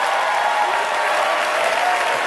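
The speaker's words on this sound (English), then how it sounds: "let's look around and give them a round of applause." A large audience at a business presentation claps steadily, a dense, even wash of applause that holds at the same level throughout.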